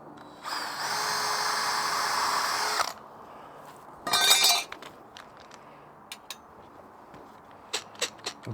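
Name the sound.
power drill boring a half-inch hole in wood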